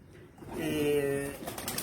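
Pigeons kept for flying coo in a single soft, rolling call, close and fairly quiet, with a faint voice nearby.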